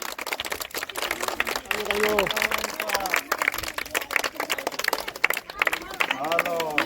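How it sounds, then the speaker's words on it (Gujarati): An audience claps in bursts at a kite-festival (Uttarayan) prize game, the applause mixed with crowd chatter and a voice speaking over it. "તાળીઓ પડો ભાઈ"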